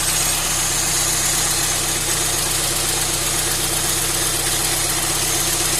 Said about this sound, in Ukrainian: Перевіряємо регулювання холостого ходу.